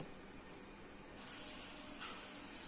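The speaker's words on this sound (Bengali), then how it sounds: "এবার একটা পাত্রে আমি তেল বসিয়ে দিয়েছি এবার এটাকে ভেজে ফেলব" A peanut chatpati mixture fries in hot oil in a pan, giving a faint, continuous sizzling hiss with no voices.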